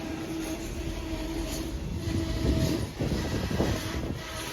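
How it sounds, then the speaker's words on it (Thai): A freight train of cement-powder tank wagons rolls steadily through Hin Lap station on a Thai mountain line, with a continuous close rumble and wheel noise that swells slightly near the middle of the pass. "จะสังเกตได้ว่ามันจะมีรูปร่างคล้ายกับรถน้ำมันนะครับแต่จริงๆ มันเอาไว้ขนปูนผงนั่นเองนะครับ"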